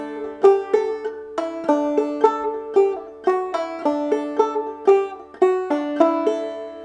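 Clawhammer banjo plays a lively phrase of Logan County Blues with Galax licks and fifth-string melody notes, giving bouncy, evenly spaced plucked notes over a steady drone, loud and close, with no voice.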